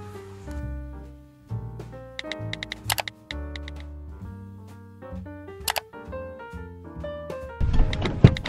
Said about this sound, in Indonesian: di perjalanan, aku juga sambil ngetik di laptop